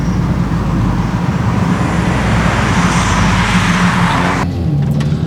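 Loud, steady engine and exhaust drone from a Mercedes-AMG A45 S hot hatch, a continuous low rumble that holds evenly before cutting off sharply near the end.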